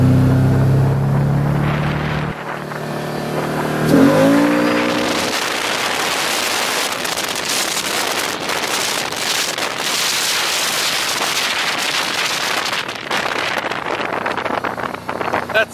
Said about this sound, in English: that first push of that throttle, I could hear the engine being different